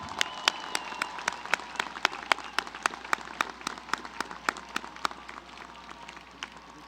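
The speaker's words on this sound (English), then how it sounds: "Please join me in a round of applause for Shani Parker." Sparse, individual claps spaced evenly across the stretch, like a scattered commencement audience at a 2015 university graduation ceremony for the arts, media and communication college; moderately quiet, with a faint murmur beneath.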